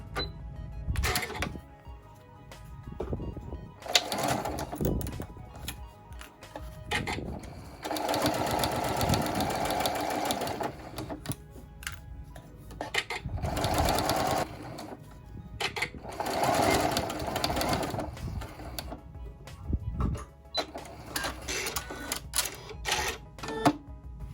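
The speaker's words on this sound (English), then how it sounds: "we're going to sew a 1/4 inch seam allowance along this edge. And we're going to use a standard straight stitch for this seam." Sewing machine running a standard straight stitch along a quarter-inch seam allowance, loud close whirring bursts of rapid needle chatter that start and stop repeatedly, with short pauses between runs.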